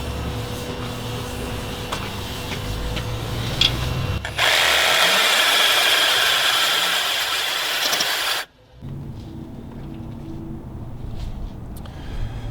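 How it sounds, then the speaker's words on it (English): A Sawzall reciprocating saw with a heavy-duty blade cuts through a steering knuckle on an E34, a loud continuous buzzing rasp lasting about four seconds after mechanical shop noise, then cutting out abruptly. "I'm gonna use a heavy duty Sawzall blade"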